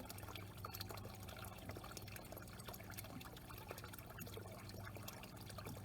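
Pond water flowing out through a siphon hose clamped at both ends, a faint continuous trickle and splash of running water, steady and alone.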